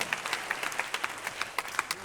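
Audience at an arts festival closing ceremony clapping and cheering, a dense patter of applause with sharp individual claps standing out, fairly faint and steady throughout.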